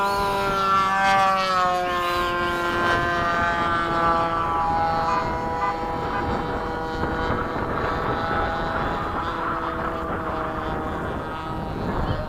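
An F-5 or F/A-18 jet takes off at Bayside with a loud, sustained engine roar and a rising whine that slowly shifts in pitch, staying strong and close throughout.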